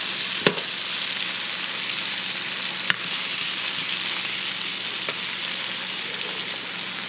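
Oyster mushrooms seasoned with salt and pepper fry in a pan with a steady, close sizzle throughout, broken by a couple of sharp clicks early on and near the middle.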